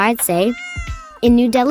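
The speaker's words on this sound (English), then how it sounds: "the class is full of stray cats and cute kittens looking for loving homes." A stray cat or kitten gives a drawn-out meow in a cat adoption class in New Delhi, clear and close, with someone speaking just before and after.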